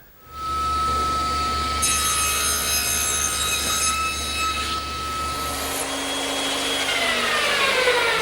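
A saw fitted with a tenon jig cuts a tenon in wood for an English garden bench: a loud, steady motor whine starts within the first second and runs to the end, with a harsher cutting stretch in the middle.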